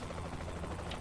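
A steady whirring helicopter rotor in Saints Row: The Third thrums throughout, fairly faint and continuous, with no voices.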